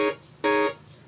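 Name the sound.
massive synth patch chord without low pass filter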